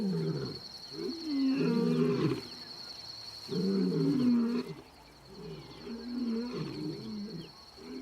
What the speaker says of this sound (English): The bachelors' challenging roars stop the Pride males in their tracks.